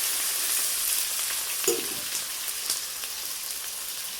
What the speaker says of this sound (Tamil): எண்ணெய் ஊற்றி கடுகு போட்டாச்சு அதுக்கப்புறம் வெங்காயம் தக்காளி இஞ்சி பூண்டு